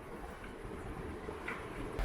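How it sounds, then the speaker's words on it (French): A low, continuous rumble of a train approaching at the Panama Canal, fairly distant and steady, with faint rattling above it. "il y a un train qui arrive"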